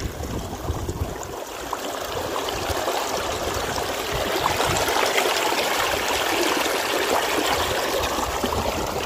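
Water pumped from a tubewell rushes and gurgles through a small irrigation channel in a steady, continuous wash that grows slightly fuller midway, with no voices.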